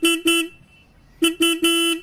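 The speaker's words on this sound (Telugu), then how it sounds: "హార్న్ యొక్క లౌడ్నెస్ అనేది ఒకసారి చెక్ చేద్దాం." A Royal Enfield Himalayan 452 motorcycle horn beeps five times up close and loud: two quick blasts, a pause, then three more in quick succession.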